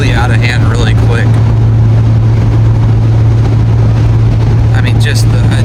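Strong wind roars loud and constant during a wildfire in Norco, buffeting the microphone into a steady, heavy rumble, with a voice speaking briefly near the start and end.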